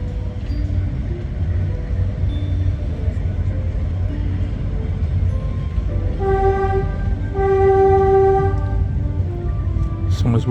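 A train rolls along a railway line past a crowded trackside spot with kids playing and motorbikes crossing in front, a loud steady rumble throughout, with a sustained horn-like tone rising midway and continuing for several seconds.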